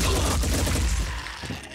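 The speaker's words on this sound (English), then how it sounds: "let's go ahead and just do a fire with the HMG" Heavy machine gun fire in the video game Blood and Titanium, a dense sustained rattle of rapid shots with heavy low-end rumble, loud throughout before easing slightly at the end.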